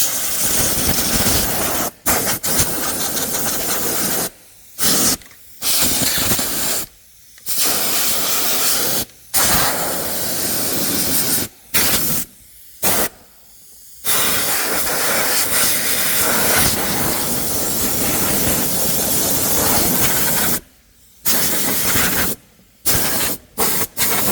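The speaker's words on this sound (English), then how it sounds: "I'm gonna blow it out real quick and get that out of there. Compressed air works great for this." Compressed air blasts packed debris out of a machine in loud, close, sustained hissing bursts, broken by several short silent gaps as the nozzle is released and reapplied.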